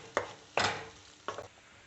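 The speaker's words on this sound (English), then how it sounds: "Now we have to mix all this well and cook for a minute." Bottle gourd kofta curry masala is stirred and cooked in a pan, with three brief scraping stirs over a faint, steady sizzle, close and quiet, with no voices.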